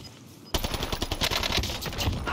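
Rapid automatic fire from an MP40 submachine gun in Call of Duty Warzone, a loud sustained burst of closely spaced shots that starts abruptly and runs to the end.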